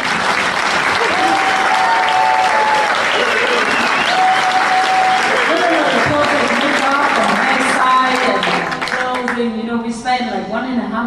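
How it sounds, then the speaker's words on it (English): Sustained audience applause at a live concert in Dresden, Germany, loud and dense for most of the stretch before thinning near the end, with a voice speaking over the clapping. "We already deserve all the applause."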